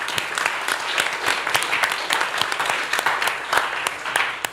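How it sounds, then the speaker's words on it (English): Steady audience applause at a youth council meeting in Barbuda, many hands clapping densely and evenly throughout, fairly loud and close with no talking over it. "Please give him a round of applause."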